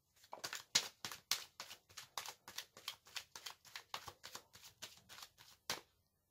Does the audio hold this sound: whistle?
no